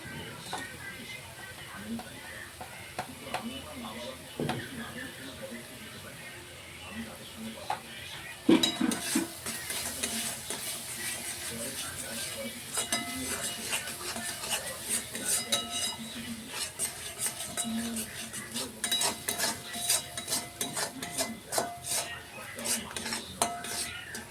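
Egg curry masala with fennel and garam masala is sautéed in a pan, with a spoon repeatedly scraping and clinking against the metal over a soft sizzle, growing busier partway through, while someone talks intermittently.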